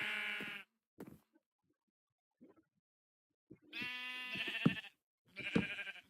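Sheep bleat in the Minecraft video game during wool farm construction, several separate nasal bleats with a silent gap between them, clear and alone with no talk.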